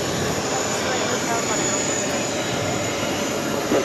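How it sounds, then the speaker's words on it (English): A jet airliner in special Copa livery takes off from runway 13 Right at JFK, a broad steady engine roar rumbling at a distance, with radio chatter in the background. "Also a Copa special livery taking off 1-3 right."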